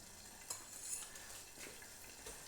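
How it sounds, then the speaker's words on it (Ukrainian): Soy-honey sauce for chicken fillet being stirred in a pan, a soft continuous scraping and swishing with a few light clinks, fairly quiet and close, with no talking. "Перемішуємо, воно не дуже хоче, але ми його тако розмішуємо"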